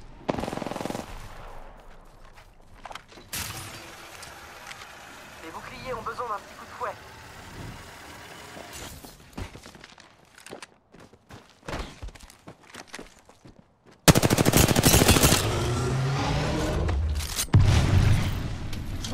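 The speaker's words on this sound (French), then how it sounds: "J'ouvre le feu." Gunfire in the video game Apex Legends, loud rapid automatic bursts and single shots with booms, mixed with game voice lines and footsteps, getting louder and denser near the end.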